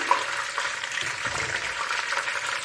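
Ginger and garlic sizzle steadily in hot oil in a pan, cooked for beef namkeen rosh: a continuous, close, even frying hiss with no talk.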